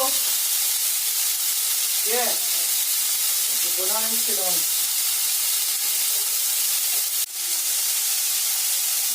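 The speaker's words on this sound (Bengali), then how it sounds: "কড়াইতে ফোড়ন দিয়ে পেঁয়াজটাকে ভেজে নিচ্ছি।" Onions frying with spices in a kadai make a constant loud sizzle and hiss throughout, while a voice speaks briefly over it and a sharp clink comes near the end.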